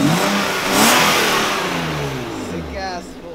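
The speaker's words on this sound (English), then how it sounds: "I actually hear his E36 outside right now." A BMW E36 engine revs up and falls away outside a garage, loud and close, with voices talking over it.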